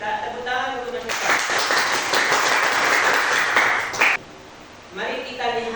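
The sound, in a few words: applause, clapping for a student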